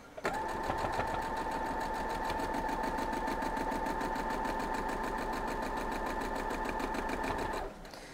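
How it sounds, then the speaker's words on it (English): A sewing machine stitches a quilt block in one continuous fast run, a close steady mechanical whir and rapid needle clatter that starts abruptly and stops near the end. "This will be a lot of sewing at this point, really."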